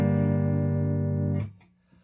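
An electric guitar sounds one minor chord and lets it sustain evenly for about a second and a half, then the strings are muted and the sound stops.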